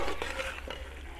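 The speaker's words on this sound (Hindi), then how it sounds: "चम्मच को इस मौके पे बराबर हिलाते रहना है ताकि मसाला हमारा जले ना।" A spoon stirring mutton chaap masala in a hot pan, with soft scraping strokes over a low, continuous sizzle, close up and quiet, with no speech.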